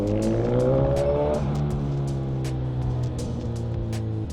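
A Suzuki GSX-S1000 big bike accelerates hard through the gears, its engine note climbing in pitch, briefly dropping at a shift, then climbing again with close, loud roar and wind noise.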